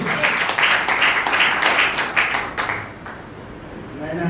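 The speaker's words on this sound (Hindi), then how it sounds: "एक बार जोरदार ताली बजाइए" A seminar audience at an RCM business meeting in Bhabua gives a burst of dense clapping. It is fairly loud at first and fades after a few seconds, with a voice heard faintly underneath.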